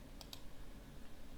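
Two quick, faint keyboard taps on a computer while drafting walls and closets in Revit, heard over a low steady background hum.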